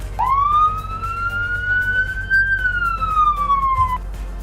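Ambulance siren in the Roblox game Greenville: a single loud, clean electronic wail that sweeps slowly up, holds at its peak, then glides back down over about four seconds, heard alone over a low background hum.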